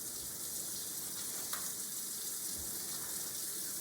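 Tap water runs steadily into a sink while hands are rinsed of soap, a soft, even hiss that continues without pause at moderate distance.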